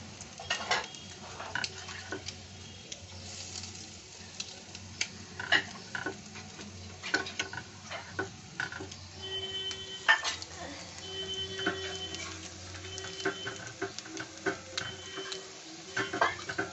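Grated egg added to potatoes already browned in a pan for an egg kabiraji cutlet, with a soft sizzle under repeated clinks and scrapes of a utensil against the pan as a voice talks.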